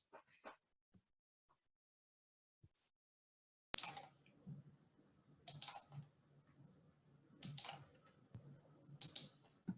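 Faint, crisp computer mouse clicks come in small clusters as someone searches for videos in a quiet room, following a near-silent stretch.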